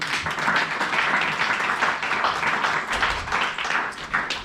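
A church congregation applauding to acclaim the Lord, steady dense clapping from many hands filling the room at an even, sustained level.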